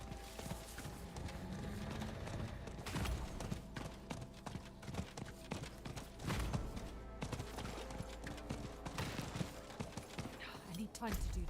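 Horse hooves from the video game Diablo 4 clop along steadily as a rogue rides, the rhythmic footfalls sitting amid busy game music and effects while a person talks over them.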